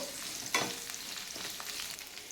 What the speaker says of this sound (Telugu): ఇలా ఆయిల్లో ఫ్రై చేసేసుకున్నాము